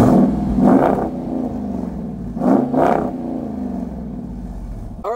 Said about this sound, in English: It definitely sounds more like a V8